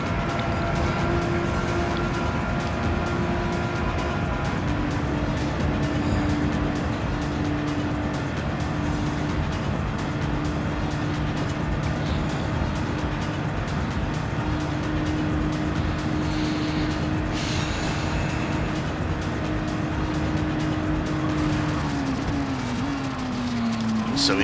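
A race car engine droning at a steady high pitch in Gran Turismo 7, holding a sustained tone with a slight shift near the end, while a person talks over it.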